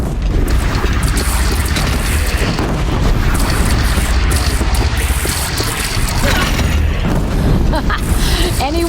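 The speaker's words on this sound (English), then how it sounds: "They only have one cannon!" Cannon fire and explosions in the video game Horizon Zero Dawn, a dense battle din of repeated heavy booms and bursts over mechanical clatter, while characters talk over the noise.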